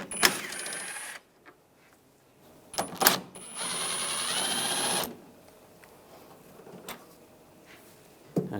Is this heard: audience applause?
no